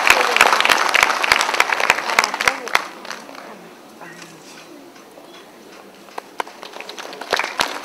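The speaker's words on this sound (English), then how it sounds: "Big round of applause, ladies and gentlemen" An audience claps at a film festival award ceremony, loud sustained applause fading down to a scattered few claps, then swelling back with renewed clapping near the end.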